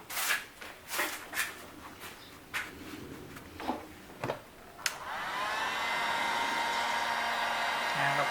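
Heat gun blasting hot air onto a large glued PVC pipe, a steady loud whooshing roar that starts near five seconds and holds to the end, after a series of brief scraping and knocking handling noises.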